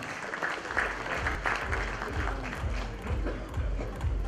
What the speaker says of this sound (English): A big round of applause for Nathan.